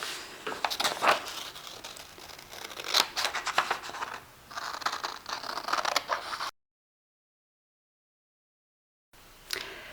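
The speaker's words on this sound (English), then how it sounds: "So I'm going to begin very carefully to cut this out." Scissors carefully cutting out a paper template for a 3D mobile, with close, quiet snipping and light paper crinkle in bursts, then a few seconds of dead silence before the cutting resumes.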